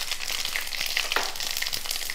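Fenugreek, mustard seeds and cumin crackling in hot oil, a bright continuous sizzle with small pops, close and fairly loud for a couple of seconds.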